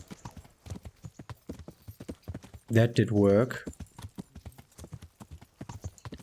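Horse hooves clip-clop in a steady, brisk rhythm while riding out of a medieval town in Kingdom Come: Deliverance, with a short whinny in the middle and someone talking over the hoofbeats.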